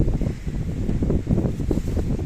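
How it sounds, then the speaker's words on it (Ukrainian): Heavy wind roars against the microphone, a loud low rumble surging in repeated gusts throughout. "Такий вітер піднявся."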